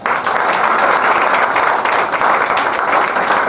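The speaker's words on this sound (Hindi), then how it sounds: "ताली बजा।" Steady, dense applause from a crowd, loud and continuous throughout with no talking.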